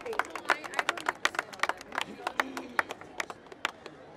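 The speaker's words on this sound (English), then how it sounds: "A huge, huge round of applause for the Honorable MLA" An audience at a Save The Beach campaign event in India honors a local MLA with scattered, moderately quiet hand clapping, a rapid irregular patter of individual claps from a modest crowd.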